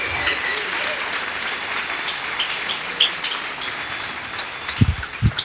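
A church congregation clapping loudly during a Spanish-language sermon, a continuous rain-like wash of many hands with a few sharper, nearer claps standing out toward the end.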